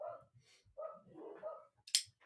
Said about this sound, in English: Why are dogs barking right now?